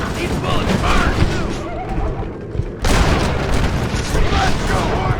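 Gunfire in the Western video game Red Dead Redemption: a few loud booming shots over a dense, noisy game mix, with a heavy burst near the middle and continuous clatter, while voices talk underneath.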